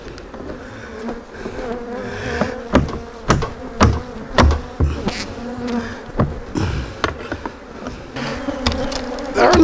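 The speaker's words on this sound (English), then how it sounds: "Let's see what we got here. I see bees," Honey bees buzz loudly and close up in a small opened hive box, an agitated, continuous drone broken by repeated sharp knocks and bumps of the box being handled.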